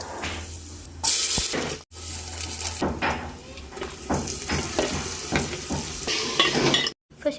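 Chiroti semolina roasting in oil in a pan for festive sweets, a continuous low sizzle with repeated scraping and stirring strokes and clattering of a spoon against the pan, no talking.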